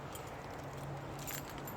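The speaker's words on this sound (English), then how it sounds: "I usually have my keys on me" A keyring holding keys, a whistle and a ferro rod jingles briefly and faintly, a soft metallic rattle against a quiet, hissy background.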